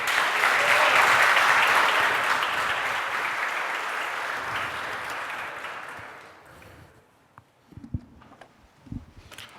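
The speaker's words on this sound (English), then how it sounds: "Please give him a round of applause." Audience applause rings out for a speaker taking the stage at a database technology lecture, loud and dense at first, then thinning out after about six seconds into a few scattered claps and small room noises.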